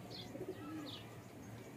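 Faint, low cooing of pigeons with soft chirps, a couple of short calls over a quiet, murmuring background.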